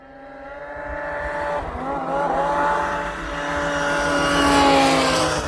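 The engine of a Turbo 850 vehicle revs steadily and rises in pitch during a ride, with a loud, continuous drone that builds toward the end, close to the microphone.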